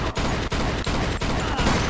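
Rapid gunfire in the crime game Mafia 2, a dense, loud volley of shots cracking roughly every third of a second without a break, with no voices over it.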